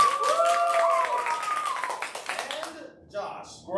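An audience at an improv show claps to vote for a scene, with scattered applause running through the first seconds and fading near the end. A voice talks over the clapping.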